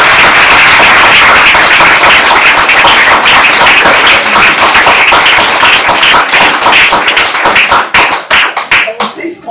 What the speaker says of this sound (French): je pense que nous devrions quand même applaudir chaleureusement nos 2 panélistes